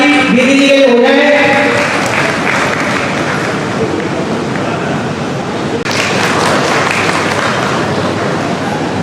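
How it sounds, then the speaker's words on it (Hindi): An audience at the Rajasthan Manav Seva Samman Ratan award ceremony breaks into loud, sustained clapping right after a brief bit of talk, a dense wash of applause that continues to the end. "तो एक बार ताली दीदी जी के लिए हो जाए"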